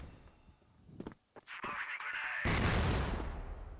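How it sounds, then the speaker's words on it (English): Grenades explode during a competitive shooter esports grand finals match: a few sharp pops and thuds give way to a heavy, roaring blast that keeps rumbling loudly to the end. "Double nade's going to push Keller back."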